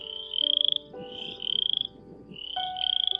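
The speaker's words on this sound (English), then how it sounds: "listening to the frogs" Frogs croak in repeated pulsing trills, several calls overlapping and alternating, loud and close against a quiet background, near the Wasatch Range in summer.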